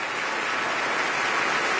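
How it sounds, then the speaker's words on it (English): Audience at a 2013 awards ceremony applauding NASCAR driver Tony Stewart, a brief burst of dense, steady clapping filling the whole moment. "Round of applause for Tony Stewart."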